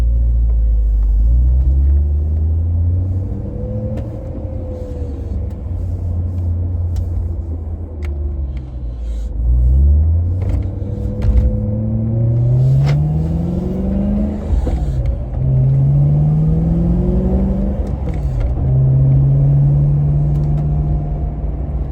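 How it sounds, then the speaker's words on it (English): A BMW E90 M3 engine with a six-speed manual rumbles deeply on a cold day, rising in pitch through several accelerations with gear changes between them, loud and close from inside the car. "Okay, so driving the E90 M3, again, it is cold right now."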